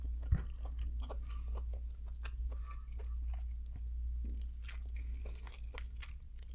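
Crab meat from a Hot N Juicy seafood boil being chewed close up, with soft wet crunches and bites repeating steadily over a constant low background hum, and no talking.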